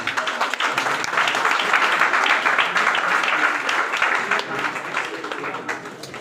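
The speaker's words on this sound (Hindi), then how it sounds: "इन लोग के लिए जोरदार तालियां होनी चाहिए।" Audience applause at an indoor gathering, a dense, loud burst of many hands clapping that carries on steadily for several seconds before slowly tapering off.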